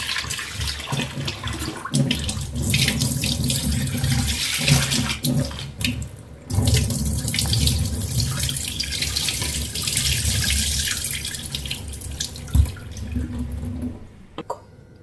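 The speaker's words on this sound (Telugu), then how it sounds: "నార్మల్ వాటర్ వేసి క్లీన్ చేసుకుందాం." Raw prawns washed in plain water under a running tap, a loud continuous rush of water with splashing and handling, briefly cut off partway through and stopping near the end.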